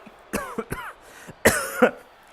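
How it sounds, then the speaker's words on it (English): Several close, harsh coughs in two quick pairs, with a rough, throaty edge like clearing the throat. "Sorry, I'm still nursing that cough."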